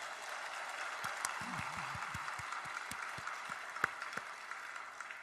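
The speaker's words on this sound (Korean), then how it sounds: "우리 서로 한번 박수하겠습니다" A church congregation applauds at a Sunday worship service, a soft, distant patter of many hands clapping, with a few low thumps in the room under it.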